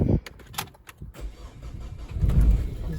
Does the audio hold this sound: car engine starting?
yes